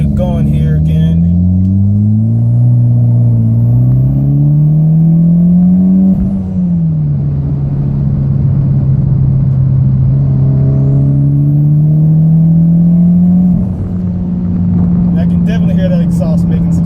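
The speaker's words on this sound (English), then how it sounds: "Exhaust making some sound back there." A 2014 Mitsubishi Evolution MR's exhaust revs up twice, the loud near engine note climbing in pitch over several seconds, dropping back, then rising again before settling to a steady idle.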